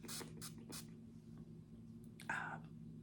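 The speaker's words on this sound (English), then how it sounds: "I'm just using my setting spray to spray my beauty blender here." Setting spray misted onto a makeup sponge, three quick close hissing bursts in a row, then another short spritz a moment later, with soft whispered talk in the background.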